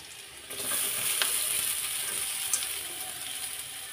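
Potatoes go into onions already frying in oil with cumin, and the sizzle swells after the first half-second into a steady close hiss dotted with a few sharp clicks.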